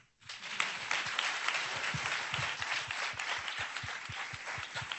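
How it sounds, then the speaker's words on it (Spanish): Sustained audience applause at an education panel at Harvard and MIT, many hands clapping steadily and loudly without pause, filling the room with no talk over it. "Yo por eso pido un aplauso para los dos."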